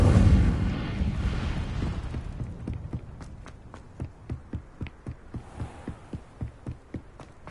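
An Incendio fire spell from Hogwarts Legacy bursts with a loud roaring whoosh that slowly fades, followed by a steady series of soft rhythmic thumps.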